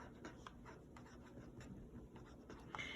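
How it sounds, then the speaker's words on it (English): A pen scratches faintly across paper as an equation is written out by hand, soft continuous strokes with small taps, close and quiet. "I'm going to write new equation"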